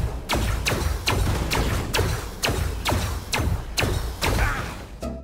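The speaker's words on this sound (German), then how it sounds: "Ihr habt's gehört, so richtig viel Wumms haben die Knarren soundtechnisch nicht." Gunshots from the video game System Shock land as a steady series of about ten thin, evenly spaced shots, each a short thudding crack with little weight or boom, repeating at a regular rhythm with no voices.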